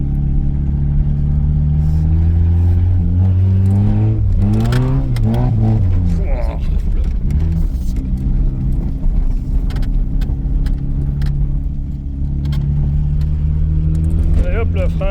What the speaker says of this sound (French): on a maintenu un petit peu accéléré parce qu'elle arrête pas de caler la voiture